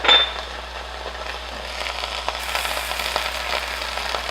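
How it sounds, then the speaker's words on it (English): Diced tomatoes hit a hot pan while vegan Punjabi baingan bharta is cooked, giving a steady crackling sizzle that starts with a brief clatter and then holds evenly, close and fairly quiet. "Now I'm going to add 4 diced tomatoes"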